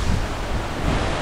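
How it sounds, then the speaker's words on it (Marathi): A waterfall beside a highway in dense forest roars as a steady, loud, broadband rush of flowing water with wind buffeting the microphone. "आणि हा धबधबा खाली परत तसाच वाहतोय इथून."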